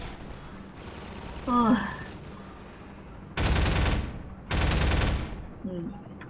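In the video game Half-Life 2: Episode One, two loud bursts of rapid gunfire, each lasting about a second, follow a voice's short pained exclamation over a low background hum.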